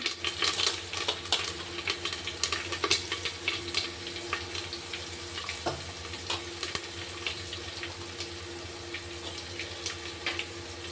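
Ginger-garlic paste drops into hot oil already crackling with cumin, mustard seeds and curry leaves for black-eyed pea masala. A dense, steady sizzle and spitting crackle runs throughout, louder at first and then evening out.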